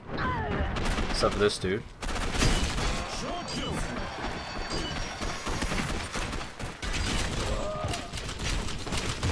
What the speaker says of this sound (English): Why is he firing over there?